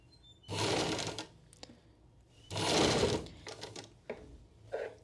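Sewing machine stitching a sleeve onto a blouse, two short runs of rapid mechanical whirring and clatter separated by brief handling clicks, close and alone.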